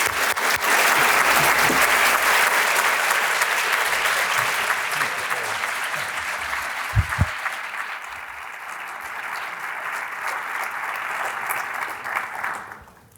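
An audience applauds warmly to welcome Archbishop Borys Gudziak to the stage at a fall conference, sustained loud clapping from a large crowd that gradually tapers off, with a few louder claps standing out midway before it fades out.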